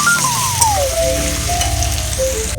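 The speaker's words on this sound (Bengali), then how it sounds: "এখন একটু হলুদ একটু লবণ দিয়ে ভাজাটা করব" Potato pieces fry in hot oil with turmeric and salt, giving a steady, close crackling sizzle throughout, while a sliding melodic tone plays faintly over it.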